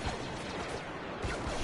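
Blaster cannon fire in a competitive video game match: a dense, continuous barrage of crackling, gunfire-like bursts fills the whole short stretch at steady loudness, with no clear talk over it.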